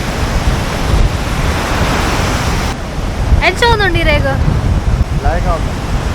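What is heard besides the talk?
wind and waves at the beach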